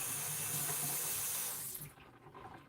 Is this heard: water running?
yes